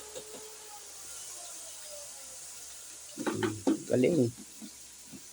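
Ground meat sautéing in a pan as the base for Filipino pakbet gives a faint, steady hiss and sizzle throughout, with a brief stretch of nearby talking partway through.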